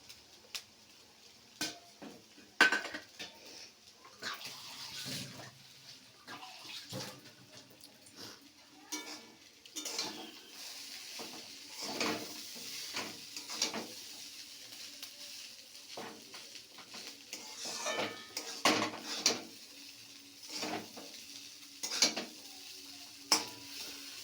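An egg is stirred in a pan of Maggi noodles on a home stove, with repeated scraping and tapping of a utensil against the pan and a soft sizzle running throughout, close and fairly loud. A voice is briefly heard.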